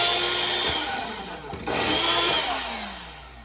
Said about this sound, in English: we're gonna pop it here on our blender